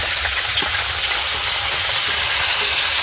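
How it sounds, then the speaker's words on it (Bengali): Mixed vegetables frying in a pan after potatoes and cauliflower, a loud, constant close-up sizzle and hiss that runs unbroken, with no talk. "এখানে ভাজা চলছে"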